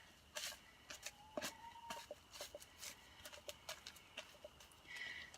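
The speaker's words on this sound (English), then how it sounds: "My chickens are going nuts in there." Scattered, irregular clucks and short squawks from several chickens nearby, coming in quick uneven bursts.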